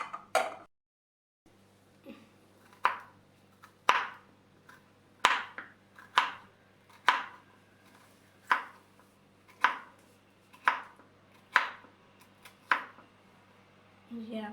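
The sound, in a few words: knife cutting bitter gourd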